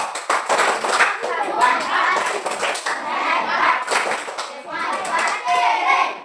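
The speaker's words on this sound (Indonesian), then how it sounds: "Mari kita berikan tepuk hebat untuk kelompok 2." Students in a classroom clap together in rhythmic bursts for a presenting group, the patterned clapping close and lively, mixed with children's voices between rounds.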